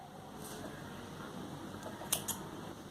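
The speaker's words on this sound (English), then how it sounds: "Do chain 1 and snip off this yarn." Scissors snipping crochet yarn, two quick faint crisp clicks close together near the end, with quiet room noise before.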